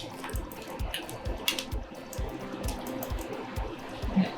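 Boiling water is poured from a pot into a deep bowl on a kitchen counter, a close splashing, gurgling stream with clinks and drips, heard alone.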